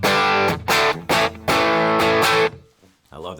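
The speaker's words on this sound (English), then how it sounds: "we'll go clean again and then into kind of a light to medium gain overdrive" Electric guitar through light to medium gain overdrive, played as a series of loud, sustained distorted chords separated by short gaps, ending with a quieter strum, close and alone.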